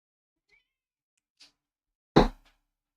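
A house cat gives one short, fairly loud meow after a faint earlier sound and long quiet, with a brief trailing noise after it.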